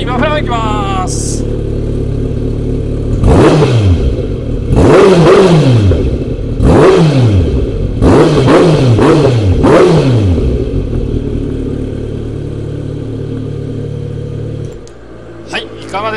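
A Kawasaki Z900RS with a black collector exhaust idles up close, then is revved hard in a series of sharp blips, each rising and falling in pitch, before settling back to a steady idle and shutting off.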